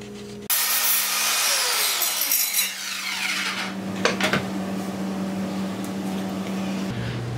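A power saw starts abruptly and cuts through a piece of wood for a workbench, its motor whine joined by rising, rasping cutting noise, with a couple of sharp knocks, before the blade winds down at the end.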